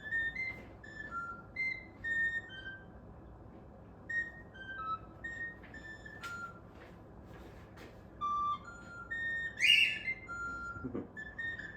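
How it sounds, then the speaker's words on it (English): Faint, thin whistle tones rise and fall in short repeated phrases over a low background hum, with a brighter warbling burst near the end. "just random whistle sound effects are working"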